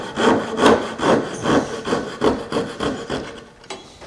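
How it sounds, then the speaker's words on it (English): Hand saw cutting across a wooden board for a hanging cabinet, around nine even rasping strokes back and forth, close and clear, with no talking. "saw here. So just drop it right in and cut across."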